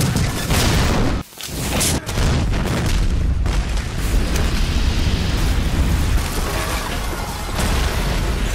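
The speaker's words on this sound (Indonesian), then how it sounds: "para pemberontak yang sudah menyiapkan bom meledak" A bomb detonates in the martial-arts film The Guillotines, with a heavy, sustained blast and a dense rumbling roar of debris. The roar continues for several seconds, broken by a couple of brief dips.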